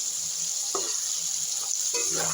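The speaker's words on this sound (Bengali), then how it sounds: "কিছুক্ষণ একটু ভালো করে ভেজে নেব।" Spices frying for a chicken curry, sizzling in hot oil in a pan with a steady hiss and a few short bursts of stirring.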